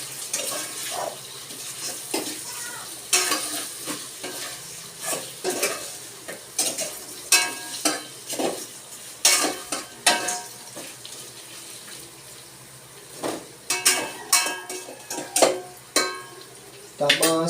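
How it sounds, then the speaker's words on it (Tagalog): Chicken for tinola stirred and sautéed in a cooking pot with its ingredients before water goes in, giving a run of scraping, clinking utensil strokes against the pot over a faint sizzling background, fairly close. "Haluin natin ng konti guys para yung lasa ng ingredients kumapit sa manok."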